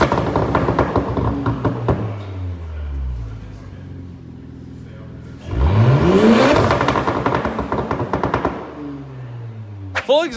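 An Audi S5 B9 fitted with an AWE Track exhaust revs hard, a deep engine note climbing steeply then falling away into rapid popping crackles, loud and close, with people talking around it.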